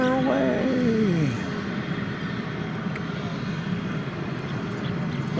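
An airplane arriving to land at DFW Airport passes as a steady broad roar with a falling whine at the start, heard from a distance outdoors and continuing as a constant rumble.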